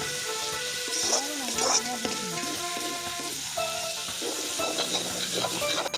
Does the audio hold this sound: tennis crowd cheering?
no